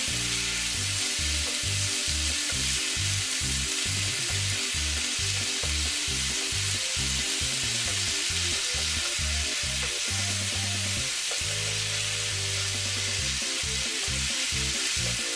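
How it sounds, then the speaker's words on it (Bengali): Green beans with salt and turmeric fry in a hot pan for a Bengali bean-and-potato bhaji, giving a loud, constant sizzle. Rhythmic scraping of stirring runs through it, with no one talking. "এবার আমি সিমগুলো দিব, দিয়ে লবণ দিব, হলুদ দিব, দিয়ে নাড়াচাড়া করে নেব।"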